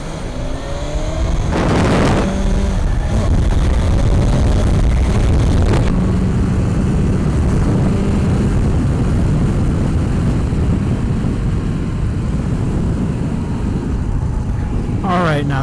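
BMW S 1000 XR motorcycle engine running steadily, a loud continuous drone with wind noise and a few sharp revs, recorded up close throughout.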